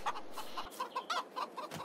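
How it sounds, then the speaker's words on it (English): Chickens in the Farming Simulator 22 video game cluck in short repeated bursts, a flock of hens and chicks heard at moderate volume with no talking. "we've got 240 chicks, 60 grown-up chickens, and 5 roosters."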